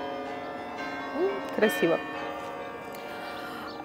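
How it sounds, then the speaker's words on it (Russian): Carillon bells ring out at the Peter and Paul Fortress, a large instrument of about 52 bells, sounding as a sustained, layered metallic peal that continues steadily beneath a brief bit of nearby speech. "В этом карильоне, который сейчас здесь играет, там, по-моему, 52 колокола"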